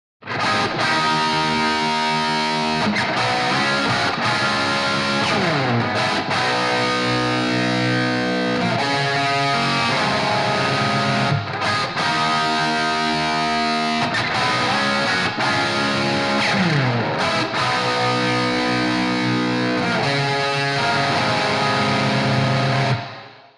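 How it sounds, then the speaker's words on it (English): A distorted electric guitar plays a repeating riff through a bright chamber reverb, with a roomy, lingering reverb tail, loud and continuous throughout. "play a little bit of the main riff now with the Sunset Sound reverb using the Bright Chamber"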